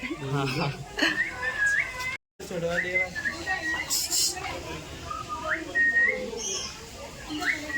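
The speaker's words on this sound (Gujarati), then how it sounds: "પોપટ અંદર વાળા પોપટ સાથે વાત કરતો છે" A parrot gives a series of short, rising whistles close by, mixed in with people talking nearby.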